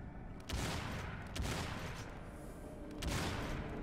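Heavy gunfire in Crysis Remastered, with a shotgun firing three loud, booming slug shots spaced about a second apart over a dense, continuous battle din.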